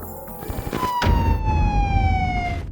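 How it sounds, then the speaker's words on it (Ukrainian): Rescue service sirens wail loudly in a city at dawn, a falling, sustained tone sweeping down steadily after a sharp onset, with traffic-like rumble underneath. "Ранок 18 жовтня у Рівному розпочався із сирен рятувальників."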